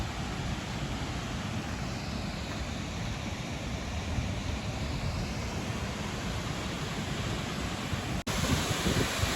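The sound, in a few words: waterfall in Carrancas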